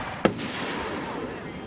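A firework explodes with one sharp, loud bang near the start, followed by a lingering crackly rumble and hiss as it fades, heard outdoors at a firework show.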